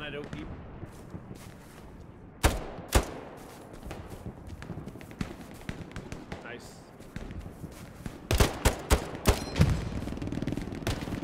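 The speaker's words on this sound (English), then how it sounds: "there's an MG on the trenches" Gunfire in the Hell Let Loose trench warfare game, a machine gun position firing on the trenches, with sharp bursts and cracks scattered throughout and a dense cluster of shots near the end, under ongoing player talk.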